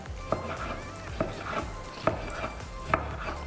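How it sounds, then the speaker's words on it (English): Cooked pork neck steaks being sliced with a knife on a board, four evenly spaced cuts each ending in a soft knock, close and fairly quiet over a faint background hum. "Our steaks, we just slice them nicely"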